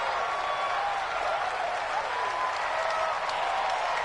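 Stadium crowd noise from a football video game on PS4, a steady, dense roar of cheering and applause that holds level throughout without breaks.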